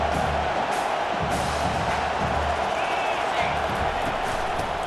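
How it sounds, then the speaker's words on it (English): Stadium crowd noise in EA Sports College Football 25, a loud, steady roar of a large crowd trying to rattle the offense, with a commentator talking over it throughout. "Listen to this crowd just shaking the girders of this place, trying to help their defense."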